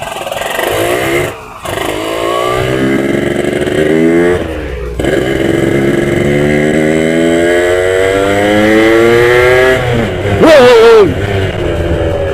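An RX-King motorcycle engine revs up and down in rising and falling sweeps, loud and close, with brief cuts where the throttle drops.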